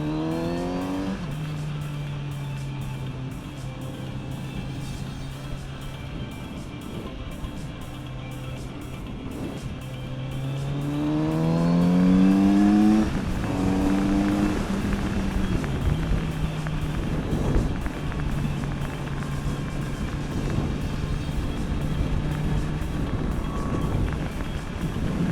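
A 2020 Kawasaki Z900RS motorcycle engine hums steadily on a short ride, rising in pitch through gear changes with a surge of revving partway through, then settling back into an even cruising drone with road noise.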